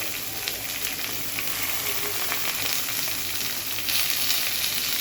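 Onion, potatoes and beans frying in a pan for samiyo upma, a dense continuous sizzle with occasional light stirring, close and steady throughout with no voices.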